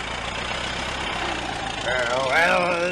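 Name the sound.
boat engine straining, Quint's boat Orca in Jaws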